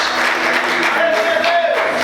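Church congregation applauding the Lord during an evangelical sermon, a fairly loud wash of clapping with a sustained musical tone, likely a keyboard, running beneath it.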